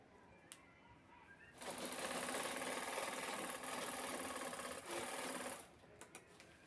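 Sewing machine stitching a double seam on an old gown, one steady whirring run of about four seconds, close and loud, framed by quiet room noise before and after.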